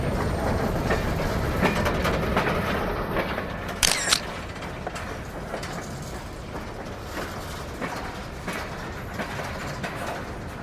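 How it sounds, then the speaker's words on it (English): L&N freight cars are shoved slowly into a siding at a mountain switchback, giving a steady rolling rumble with faint wheel clicks and a brief metallic squeal, heard from nearby. "he will cut the cars and shove the remainder into the siding until the locomotives are in the clear"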